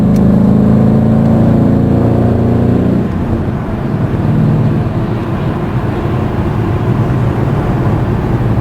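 A 2011 Ford Mustang 5.0 V8, fitted with a stock H-pipe and an MRT Interceptor axle-back performance exhaust, revs loudly up close. A deep, tonal engine note for the first few seconds gives way to a rougher, steady exhaust roar.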